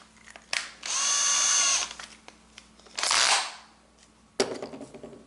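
A power drill whirs loudly in two bursts, the first steady and high-pitched, the second a grinding bite into wood, followed by clattering knocks.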